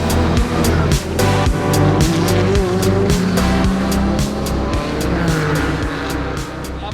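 A 2019 Porsche Club Sport MR race car roars around the COTA circuit, its loud engine note rising and falling through rapid gear changes, with sharp repeated shift cracks and faint tire noise throughout.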